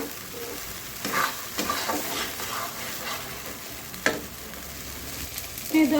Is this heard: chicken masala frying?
yes